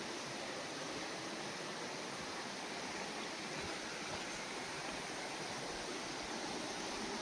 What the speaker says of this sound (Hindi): खलखल करती बहती हुई मंदाकिनी नदी देख सकते हैं